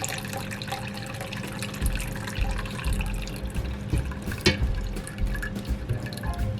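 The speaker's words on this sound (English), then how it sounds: "it practically drains it for me." Jamaican sorrel drink drains through a strainer, a steady liquid trickle and splashing dribble with occasional louder drips and clinks, close and continuous.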